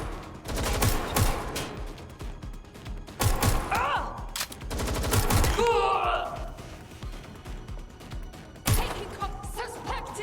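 Gunfire in the video game Watch Dogs Legion: dense bursts of automatic shots crack out in rapid clusters, mixed with in-game voices shouting over the firefight.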